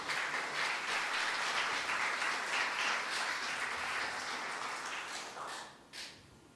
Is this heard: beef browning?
no